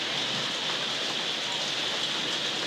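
Steady, dense rain falls at night with an even hiss of drops on surfaces and no pauses or voices.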